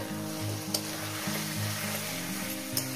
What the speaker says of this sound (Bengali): মশলাটা সুন্দর করে কষিয়ে নেবেন